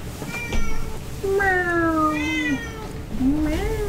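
A cat meows several times in the video game XCOM 2: War of the Chosen, drawn-out rising and falling cries over a low background hum, fairly close and clear.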